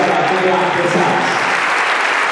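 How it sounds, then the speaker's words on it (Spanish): Loud, dense applause from an audience at the end of a talk, a continuous close roar of clapping that stays even throughout, with voices faintly underneath. "Le damos un aplauso"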